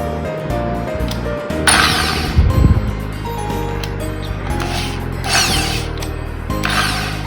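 A repaired electric drilling machine runs steadily with a whirring, ratcheting mechanical hum, swelling louder in a few bursts over several seconds, close and without talk.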